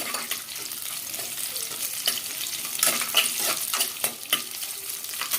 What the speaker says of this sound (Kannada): ಎರಡು ನಿಮಿಷಗಳ ಕಾಲ ಚೆನ್ನಾಗಿ ಫ್ರೈ ಮಾಡಿ ನೋಡ್ಬೋದು